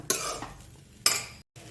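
Two brief scraping strokes of a utensil against a pan while stirring sabudana khichdi, close by, with quiet sizzling between them.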